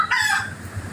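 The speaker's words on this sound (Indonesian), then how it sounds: "iya suara ayam loh. Ini kepencet loh, tap-tap tadi." A rooster crowing sound effect from a phone, triggered by accident, plays as one loud, close crow that rises and then trails off, with no voices over it.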